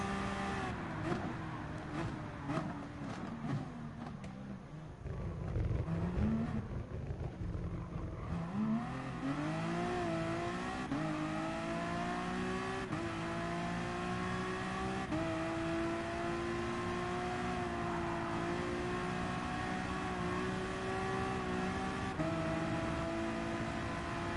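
A racing car engine in the driving game GT Sport during an endurance race, revving up through gears with rising whines, then holding a steady high drone, loud and continuous with no talk.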